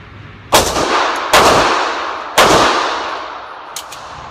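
Three sharp, loud gunshots from a nickel-plated Llama pistol chambered in 9mm, fired at uneven intervals outdoors. Each crack rings out in a decaying echo, followed by a faint metallic click.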